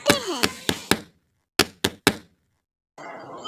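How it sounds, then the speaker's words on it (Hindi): Two sets of sharp knocks on a door, four raps then three, separated by silence, followed by a short stretch of soft noise. "तोता और कबूतर कौवे के घर जाते हैं और दरवाजे पर दस्तक देते हैं।"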